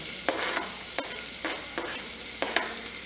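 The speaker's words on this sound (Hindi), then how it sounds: "ये हमने इसमें रिफाइंड ऑयल में डाल देना है।" Finely chopped garlic sautéing in refined oil for Schezwan sauce, a steady close sizzle with repeated stirring scrapes at an uneven rhythm.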